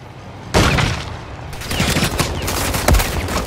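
Dense gunfire and explosive booms in the Call of Duty video game, a sustained loud fusillade that bursts in after a quieter opening and rolls on with heavy low thumps.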